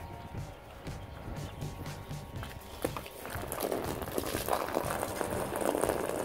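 Water from a household well begins gushing from a hose partway through, a rising hiss and splash over a continuous pressure-pump drone.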